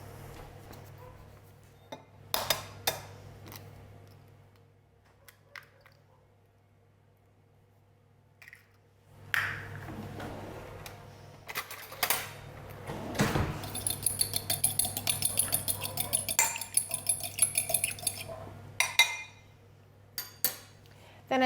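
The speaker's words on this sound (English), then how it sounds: "the first thing I do is just crack an egg in and mix it a little bit" An egg cracked into a bowl and beaten for Irish brown bread batter: a few sharp taps and clinks, a quiet pause, then a busy run of whisk clicks against the bowl before scattered clatter.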